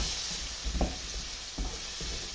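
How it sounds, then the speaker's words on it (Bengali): Vegetables frying lightly in a pan while dal is cooked give a steady soft sizzle, with a few brief stirring scrapes, close and alone without talk. "এই কারণে আমি হালকা একটু ভেজে নিই।"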